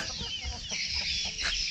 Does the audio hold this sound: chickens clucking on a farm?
yes